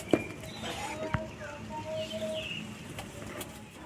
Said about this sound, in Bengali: দেখতে পাচ্ছ এখানে সব পায়রাই আছে আমার